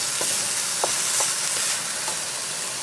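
Pineapple, vegetable and chicken stir-fry sizzling in a hot pan, a loud continuous hiss of frying broken by a few brief scrapes and clinks as the food is stirred, with no voices.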